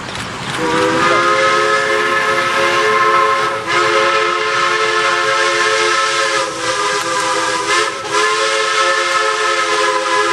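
Steam locomotive number 89 of the Strasburg Rail Road passes at speed on a rural line, its multi-chime whistle sounding loud and sustained for nearly the whole stretch over rolling train noise, with brief dips between blasts.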